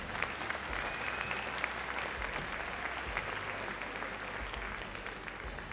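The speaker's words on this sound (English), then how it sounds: "Give them all one big round of applause," Steady, full applause from a large audience fills the arena at the Crufts dog show, a dense wash of clapping that holds evenly from start to finish with no talk over it.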